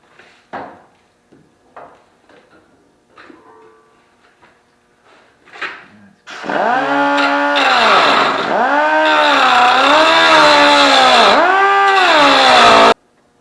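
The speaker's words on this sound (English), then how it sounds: "Sometimes it's easier to do with the cutoff wheel, just a little bit at a time." A cutoff wheel slices into a car fender during repair: after a few faint clicks and knocks, a loud continuous grinding whine starts and runs for about seven seconds, its pitch sagging and recovering as the disc bites into the metal.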